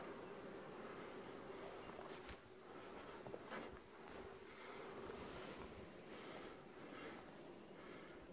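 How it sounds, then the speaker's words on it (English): Bees buzz around an open beehive, a faint continuous drone with a few brief louder passes as single bees fly near, soft and steady throughout. "Whole bunch of bees on the lid."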